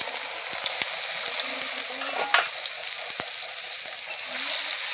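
Soybean chunks sizzle and crackle in hot oil, a close, steady frying hiss with a few soft clicks and scrapes from the pan.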